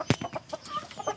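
Aseel and Shamo chickens cluck close by in a quick series of short calls, one louder squawk at the start followed by softer repeated clucks.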